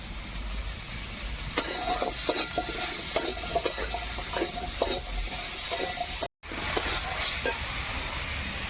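Oil sizzles in a pan of frying drumstick flowers with turmeric and salt, a steady close hiss broken by regular spatula scrapes, with a brief dropout partway through.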